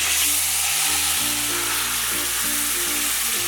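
Marinated prawns frying in hot oil with shahi jeera give a loud, steady, close sizzle with continuous spitting crackle, with a low background tone underneath.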